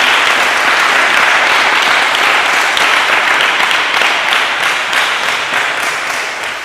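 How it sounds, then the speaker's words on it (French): A church congregation at a Pentecost service claps in sustained, dense applause to acclaim the Holy Spirit, loud and steady throughout and easing slightly toward the end. "On peut acclamer encore le Saint-Esprit."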